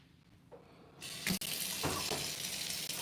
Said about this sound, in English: Rinse that out real quick.